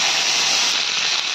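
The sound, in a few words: chopped beetroot and potato added to hot oil, sizzling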